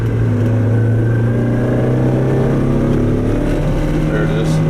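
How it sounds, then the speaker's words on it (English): Inside a Mazda Miata decelerating at about 35 mph, a deep, steady low rumble from the driveshaft drones loudly and continuously, its tone shifting slightly as the car slows. "There it is, 35, a real rumble at 35."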